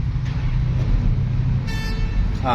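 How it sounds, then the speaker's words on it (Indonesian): A Hitachi Zaxis 200 excavator sounds one short horn blast over a steady low engine rumble, with a second tonal honk starting right at the end. "Jangan lupa sebelum menghidupkan engine kita klakson satu kali."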